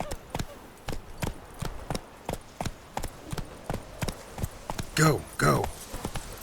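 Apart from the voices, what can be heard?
horse Roach galloping hoofbeats in video game The Witcher 3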